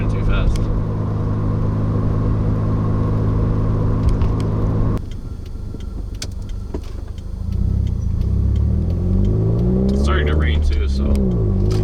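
Steady low engine drone and road rumble from a 2015 Subaru WRX cruising at moderate speed, loud and continuous, dipping briefly mid-way before the hum builds again with rising tonal sweeps.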